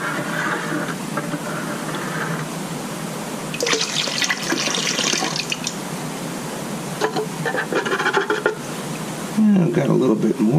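Water is poured into a gold pan while panning outdoors after heavy rain, splashing and trickling in several uneven bursts over a steady background wash.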